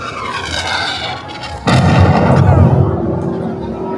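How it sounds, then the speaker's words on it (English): A single loud cannon blast at Disney's Magic Kingdom booms suddenly after a quieter stretch, followed by a rumbling, crackling tail that lingers. "found our way to the cannon. Here is, well, that is the spot. Is that gonna ignite anything? It did."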